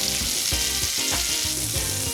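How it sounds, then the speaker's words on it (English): A monkfish fillet fries in a pan over low heat, giving a steady, loud, close sizzle that runs unbroken with no voices. "We've been cooking that fish on the same side for 2 or 3 minutes."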